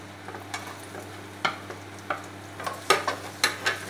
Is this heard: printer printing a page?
no